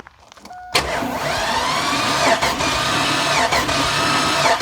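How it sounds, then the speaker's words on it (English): An abandoned Chevy Avalanche V8 cranking over during a compression test, a quiet start followed by a loud, steady engine drone close by that continues to the end. "So I'm gonna get my helper to bump it over while we check the compression"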